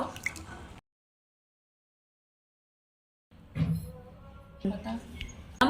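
Shelled green peas are rinsed in water, with splashy drips and squishy sloshing close by after a brief silence, and a voice speaks briefly at the start.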